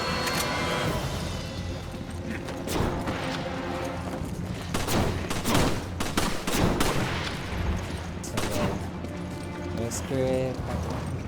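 Gunfire in Resident Evil 5: Lost in Nightmares, a dense run of shots and impacts layered over game music and ambience, with a person talking throughout.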